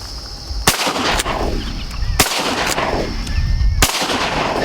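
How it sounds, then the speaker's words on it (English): Three loud shotgun blasts ring out at uneven intervals during a public-land teal hunt in Kansas, each a sharp close crack with a decaying tail, over steady outdoor wind noise. "He made 3 shots on it"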